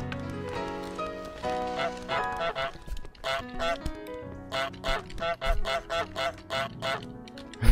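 A goose in Untitled Goose Game honks in a rapid series of loud, nasal calls, repeated in short rhythmic bursts over light game music, with no talking.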